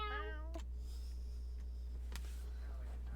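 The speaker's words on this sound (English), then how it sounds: "The only thing you can hear for the next few seconds is a little cat crawling across the floor." Small mechanical toy cat moving across a floor during a Halloween tabletop game session, giving a few faint meow-like chirps and soft clicks over a steady low hum, quiet and sparse.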